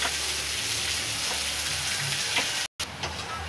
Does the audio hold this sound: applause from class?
no